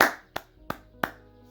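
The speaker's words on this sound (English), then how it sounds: "Let's clap that up." Three sharp, evenly spaced hand claps ring out one after another in a quiet room, each followed by a short decay, after a brief fading sound at the start.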